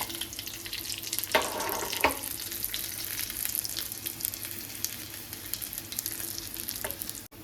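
Small onions and red chillies sizzle in hot oil in a pan, a steady close frying hiss broken by a couple of brief clinks and stirs.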